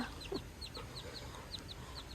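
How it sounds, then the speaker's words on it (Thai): Chickens cluck with a rapid series of short, high peeps repeating steadily over a hushed background, close and fairly clear with no voices. "จูเนียกลัวไก่"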